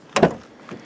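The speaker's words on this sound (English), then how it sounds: "If you want to get back in the car, press it again, the doors will unlock." Door locks on a 2017 Buick Encore Preferred AWD unlock by key fob, a quick close double mechanical clunk followed by a fainter click.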